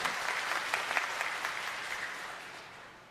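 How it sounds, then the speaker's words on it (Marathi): An audience at a Maharashtra alliance workers' rally applauds, a dense, fairly distant patter of clapping that holds steady and then gradually fades. "त्याबद्दल जोरदार टाळ्या वाजवून स्वागत करूया"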